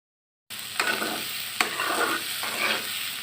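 Dal lentils dry-frying in a kadai with no oil, a steady close, dry rustling hiss broken by three sharp scrapes of the spoon as it is stirred.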